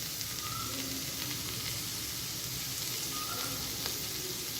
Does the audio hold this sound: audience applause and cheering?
no